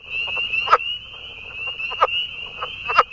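A newly identified leopard frog species from New York City calls in clear, repeated croaks, three or four sharp grunting bursts spaced about a second apart over a steady high insect-like drone.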